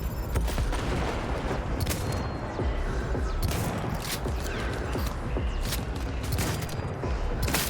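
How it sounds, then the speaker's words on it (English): Dense, continuous gunfire and explosive bursts from a firefight in the video game Cyberpunk 2077, including a grenade blast, with rapid overlapping shots sustained at a steady loud level throughout. "Watch out! Grenade!"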